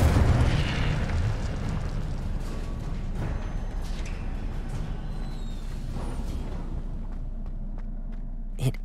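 The Incendio fire spell goes off in Hogwarts Legacy with a loud, deep, fiery burst at the start that rumbles and fades into a long low tail, with no talk over it.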